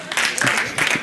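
An audience bursts into a short round of applause, a dense crackle of clapping that swells twice within about a second, with voices mixed in.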